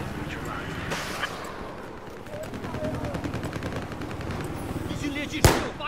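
Battlefield 4 gunfire sounds as rapid bursts of automatic fire, steady and rattling, with a sharp close shot near the end, heard under excited voices.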